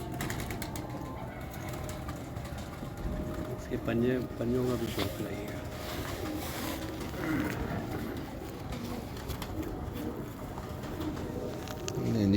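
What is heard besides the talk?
pigeon cooing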